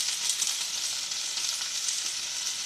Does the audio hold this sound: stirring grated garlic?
yes